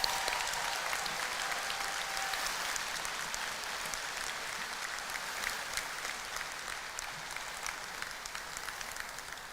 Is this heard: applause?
yes